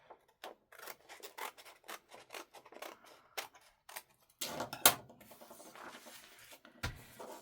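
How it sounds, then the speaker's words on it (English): Scissors cutting along the edge of a paper page, a series of close, crisp snips in an uneven rhythm, with a denser burst of cutting midway and a final snip. "I'm going to cut my edge."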